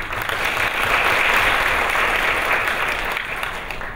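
Steady applause from the audience at a Tokyo screening Q&A for the film Midnight Five Minutes Before, an even sustained clapping that fills the room with no voices on top.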